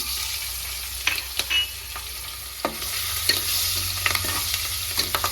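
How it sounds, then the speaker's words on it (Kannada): Green chilies sputter in hot oil left from frying eggs, a close sizzle punctuated by sharp pops and spoon scrapes at irregular intervals, with no speech. "ನೋಡಿ, ಮೆಣಸಿನ್ಕಾಯಿ ಫ್ರೈ ಆಗ್ತಾ ಇದೆ."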